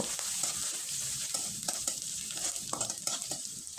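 Chopped onion, garlic, ginger and green chili frying in a pan while being stirred, a continuous sizzle broken by repeated scraping knocks of the spoon, close and fairly loud, with no talk.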